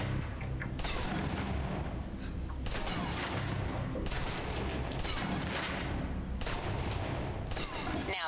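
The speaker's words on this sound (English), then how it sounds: "let's move on to the submachine gun. Now let's empty the clip." A submachine gun empties a full clip in the video game Alpha Protocol, firing long, rapid bursts of shots with short gaps between them, loud and close over a constant background of game noise.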